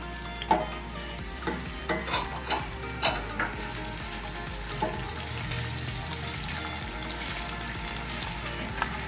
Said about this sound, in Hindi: अब ये ऑयल जाएगा इसमें, और इसमें प्याज फ्राई करेंगे अच्छी तरह